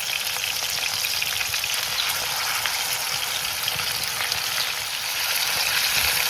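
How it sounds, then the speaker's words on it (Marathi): Chicken tikka pieces fry in oil in a pan, giving a dense, even crackling sizzle that holds steady and close for the whole stretch, with no voices. "चिकन मस्त असे फ्राय करून घेतलंय बघा."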